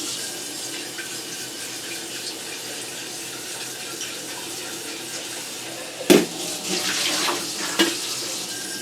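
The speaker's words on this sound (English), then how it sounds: "Fill that with water." Water runs steadily from a tap into a teapot, a continuous rushing hiss with a brief clunk and shifting splash near the end.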